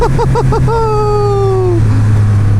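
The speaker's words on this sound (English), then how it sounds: "here we are in second, doing 30, up to 70 here" A 2020 Triumph Rocket 3 motorcycle pulling hard in second gear, loud and close, with quick revving bursts followed by a long rising engine pitch that eases off near the end, over steady wind rumble.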